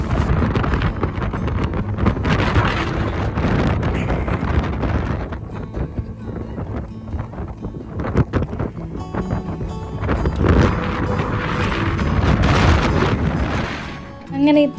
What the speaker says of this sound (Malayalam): ഇവിടെ നല്ല സ്റ്റോമുണ്ട്, നല്ല ചുഴലിക്കാറ്റാണ്.